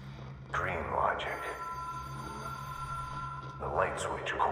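Telephone ringing in the video game Control, a repeated electronic trill in two bursts with sustained tonal hum between, heard under speech.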